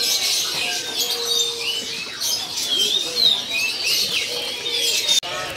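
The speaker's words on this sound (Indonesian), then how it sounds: "Ready ya, cucak keling." A pied myna (cucak keling) in a bird shop sings with bright whistles and chirps over steady shop noise, moderately close, with no talking.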